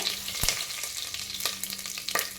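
Mustard seeds and cumin tempering in hot oil, a quiet sizzling hiss broken by a few sharp pops and taps at irregular intervals.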